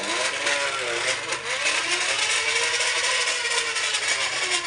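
Homemade motorbike built around a Kawasaki engine and a bicycle frame, being test run at home; a steady, loud, continuous engine drone holds through the whole stretch with a slight wavering pitch, close by and without interruption.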